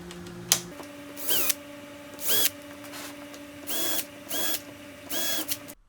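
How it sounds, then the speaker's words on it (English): A power drill pre-drills holes into a plywood tabletop in six short whirring bursts separated by pauses, each rising and settling in pitch, close and fairly loud over a steady low hum. "I mark out the holes and put it back on the tabletop to pre-drill."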